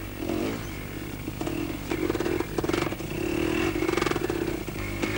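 Two-wheel-drive motorcycle ploughing slowly through mud on light throttle, a steady engine drone with pulsing surges and rattles, close and fairly loud with nobody speaking.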